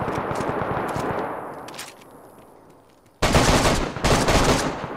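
DayZ gunfire around a Mosin rifle: distant rattling shots at first, then two loud, close bursts of rapid fire cracking in quick succession, with no talk.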